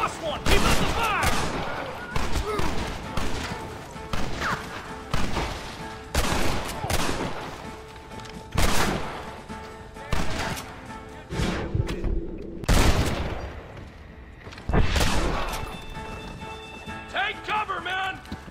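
Sustained gunfire in a Red Dead Redemption shootout against the US Army, with repeated loud shots and volleys in bursts across the span, voices shouting over the battle.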